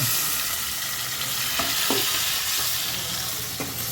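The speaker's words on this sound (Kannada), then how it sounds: "ಈರುಳ್ಳಿ ಹಾಕಿದ್ದಾರೆ ಚೆನ್ನಾಗಿ ಬೇಯಿಸ್ಕೋಬೇಕು" Onions fry and sizzle steadily in a pan for dum biryani, with a few short scraping stir strokes over the continuous hiss; no talking.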